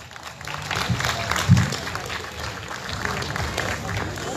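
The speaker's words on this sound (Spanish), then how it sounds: "Fuerte los aplausos para él" Audience applause greets the provincial mayor at the inauguration of a Chancho al Palo roast-pork festival in Chancay, a steady dense clapping from a crowd with voices mixed in throughout.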